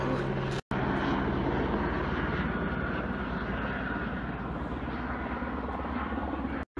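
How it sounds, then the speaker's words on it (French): Helicopters dropping water on a highway fire near Jasper in 2018, a steady loud rotor and engine drone with rapid low blade chopping that continues throughout, with no voices. "Il y a des hélicoptères qui lancent des poches d'eau."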